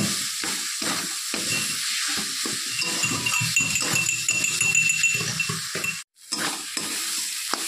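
Spice paste for a katla fish curry (jhal) fries and is stirred in a pan, a steady close sizzle broken by repeated scraping strokes, with a brief dropout near the end before the frying resumes.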